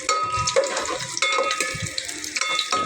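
Onion frying with browned garlic in a pan, a soft sizzle under repeated metallic clinks and scrapes of stirring, close by with no speech.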